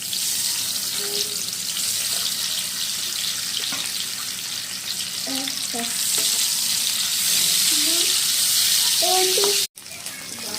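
Eggs crackle and sizzle steadily in hot mustard oil in a pan, a dense bright frying hiss with occasional clinks and scrapes of a utensil throughout.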